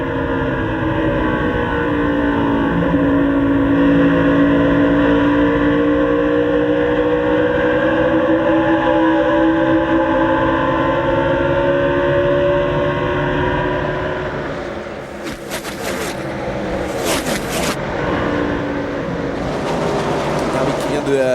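A NASCAR Busch Series stock car at Nashville, heard from Clint Bowyer's onboard camera, its engine holding a loud, steady drone that rises slowly in pitch, then a few sharp bursts near the end, with a commentator talking throughout.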